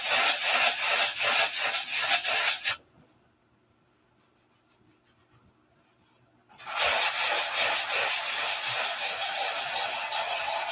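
Steady, close rasping of sandpaper rubbed back and forth over a surface, stopping for a few seconds of near silence, then resuming just as loud and rhythmic.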